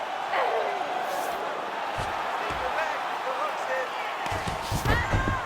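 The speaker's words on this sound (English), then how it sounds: "Huge response from the crowd." A UFC arena crowd roars steadily in the background during a women's flyweight title grappling exchange, with scattered shouts and a few thuds rising near the end, under commentary.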